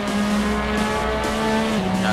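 Racing engine of a Ferrari 458 race car droning steadily as the wheels lock up under braking, with a high tonal tire squeal running through, loud and close, with no talk.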